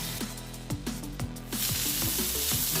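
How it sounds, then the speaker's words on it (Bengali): Salt dry-roasting in a pan: a steady sizzle with rhythmic scraping stirs, and the hiss suddenly swells louder partway through. "নুনটা ভাজা ভাজা হয়ে গেছে"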